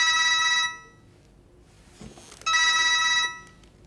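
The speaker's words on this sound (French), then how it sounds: "le même téléphone que celui qui a sonné" A telephone rings in a scene from a Martin Scorsese film, two loud bursts of ringing separated by a quiet gap, with no talk over it.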